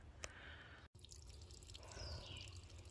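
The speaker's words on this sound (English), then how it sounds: "Nice little drip." Water drips at a small trail water source along a brook on the Appalachian Trail, quiet irregular drips over faint outdoor background hiss, no voices.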